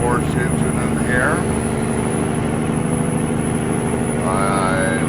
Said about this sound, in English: I am running the 840 horse engine in here.